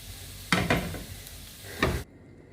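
Onions sautéing in hot oil in a pan while making spicy sausage masala, a soft steady sizzle with a few louder stirring scrapes, close and fairly quiet, no talking.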